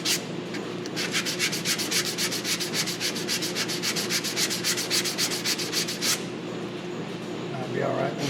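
Sandpaper rubs against a turned pecan wood goblet in a rapid, even back-and-forth rhythm, loud and close, before stopping near the end.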